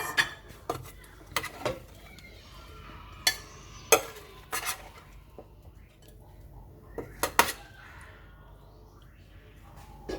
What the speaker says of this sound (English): So now I'm going to dish it in the plate.